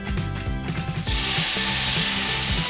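Syrup pours onto browned, roasted semolina for helva, setting off a loud, steady hiss and sizzle right after earlier stirring and scraping sounds, close up, with no talk.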